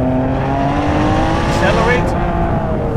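A Ferrari 599 pulls hard in second gear, its engine note loud and close, climbing steadily in a continuous rising wail without a break.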